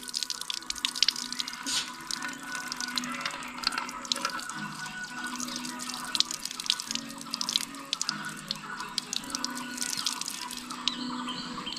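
Tap water runs steadily over a painted piece being gently washed during hydro-dipping carbon fiber paint at home, a continuous splashing hiss with small drips, close and unbroken, no talking.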